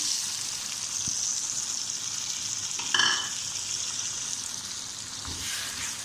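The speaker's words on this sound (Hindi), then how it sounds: "अभी अदरक लहसुन का और हरी मिर्च का पेस्ट डालेंगे।" Ginger, garlic and green chili paste sizzles in a pan with lightly fried onions, a steady moderate frying hiss with a brief stir clatter near the middle.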